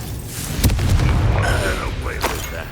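An Expelliarmus disarming spell from Hogwarts Legacy lands as a heavy boom with a crackling burst, followed by rumbling impacts and a character's voice mixed in underneath.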